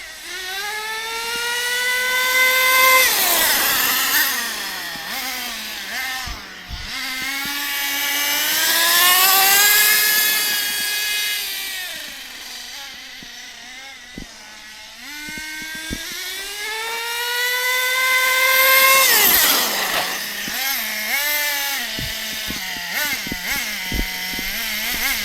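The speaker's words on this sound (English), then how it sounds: "but we'll go full throttle on the way back." A vintage HPI MT2 nitro RC monster truck engine screams at full throttle, its whine rising and falling in pitch with repeated high-revving passes, loud and close with no talking.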